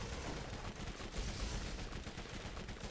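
Rapid submachine gun fire in the Borderlands video game, a continuous stream of dense, crackling shots with punchy low thumps, loud and sustained across the whole stretch with no talk.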